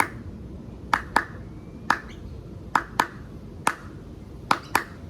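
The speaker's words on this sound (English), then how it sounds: "we're going to introduce a 2 clap beat" Sharp hand claps in pairs, four two-clap groups in an even beat, close and loud with brief silences between, as part of an Aboriginal arts and dance lesson about the bunya tree.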